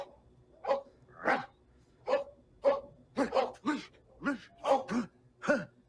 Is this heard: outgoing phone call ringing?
no